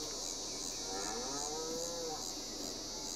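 A cow in Farming Simulator 22 gives a single faint, drawn-out moo over a steady background hiss, with no voices.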